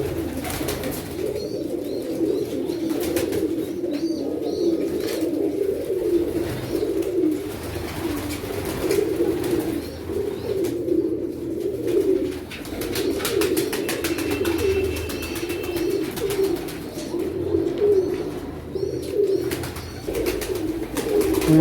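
Many pigeons keep up a dense, continuous chorus of soft rolling coos for the whole stretch, steady and close, with scattered chirps and faint wing flutters and no talking.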